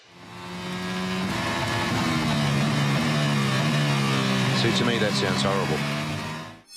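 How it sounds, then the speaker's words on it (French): A Formula 1 V6 hybrid racing engine whines past at high revs, its pitch rising and sweeping with gear changes, loud and close, with speech present as well. "Le bruit des moteurs a totalement changé."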